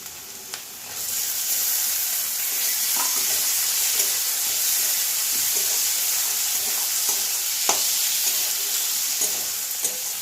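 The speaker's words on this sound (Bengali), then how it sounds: "আচ্ছা এবার দেবো আমি টমেটো কুচি" Chopped tomato hits hot oil for a Bengali Bhola fish curry, bursting into a loud, continuous sizzle with soft scraping and stirring clicks from the pan; no talking.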